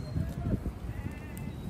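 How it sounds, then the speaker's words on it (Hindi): Sheep bleat on a Himalayan mountain trek, a couple of short nasal calls close by early on, with faint hoof clatter and outdoor ambience. "गॉड्स एंड शीप्स, भेड़ें और बकरियां।"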